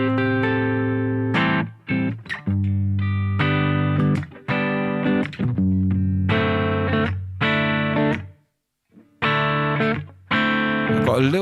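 Electric guitar played through a BOSS GT-1000 on a boutique amp model with light room reverb, heard alone as distorted, sustained chords and riffs in phrases separated by short pauses.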